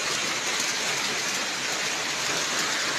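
Steady, dense rain pours down without a break, a loud hiss of drops beating on surfaces close by, with no voices or other sounds over it.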